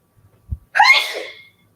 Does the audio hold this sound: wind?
no